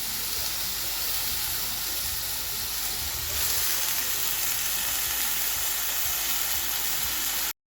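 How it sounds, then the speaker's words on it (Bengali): Eggplant and leafy greens frying in hot oil in a wok make a dense, continuous hiss of sizzling, moderately loud and even, swelling slightly midway before stopping abruptly. "বেগুনও ভাজতে দিয়ে দিয়েছি, শাকটা ছেড়ে দিচ্ছি।"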